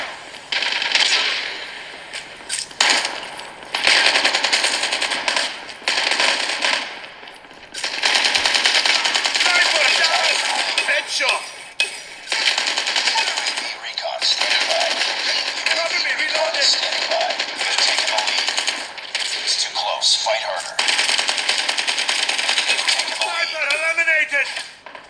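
Rapid automatic gunfire from Call of Duty Mobile played on a Xiaomi Redmi Note 8 phone bursts in long, dense strings with brief gaps, game effects chirping near the end.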